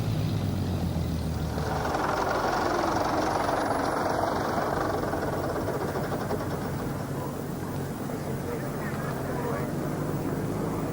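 A Spitfire Mark I fighter taxiing toward hangars and parked aircraft, its piston engine giving a steady, loud, rough drone throughout with a low rumbling idle character.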